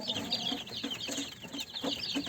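Young chicks walking on a wire mesh floor give repeated high, short peeping calls over a steady background, heard close and moderately loud.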